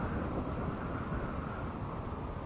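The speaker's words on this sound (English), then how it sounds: "Constant downpours." Steady rain pours in RimWorld during a stormy fall, a dense continuous hiss with a low rumble of thunder underneath, unbroken throughout.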